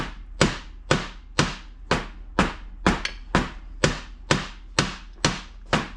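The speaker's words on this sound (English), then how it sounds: "Gently tap it in." Repeated light hammer taps driving a seal into bare two-stroke engine cases during assembly, about a dozen sharp, even-spaced knocks, close and clear with nothing else over them.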